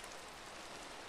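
Steady Minecraft video game rain hisses as a soft, even wash of noise, faint and continuous, with no voices.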